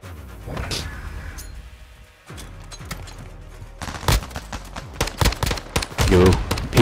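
Rapid SMG bursts in Modern Warfare 2 Search and Destroy, sharp close shots clustering in quick volleys toward the end, with voices chattering over the fire.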